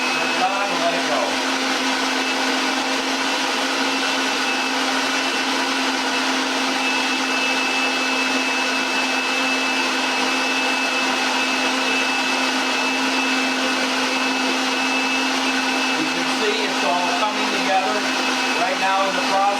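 A food processor runs steadily and loudly, mixing dough for a warm tortellini salad, a constant motor whine with a high pitched tone that holds throughout with no pauses.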